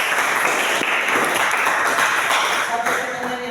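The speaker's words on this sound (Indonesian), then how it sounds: "beri tepuk tangan dulu" A classroom audience applauding, a dense, loud patter of many hands clapping together for a few seconds, tapering slightly at the end.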